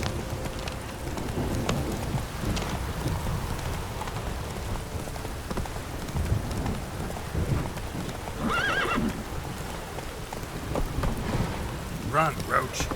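A horse gallops in The Witcher 3, with steady clip-clop hoofbeats and a whinny under continuous rain and rolling thunder.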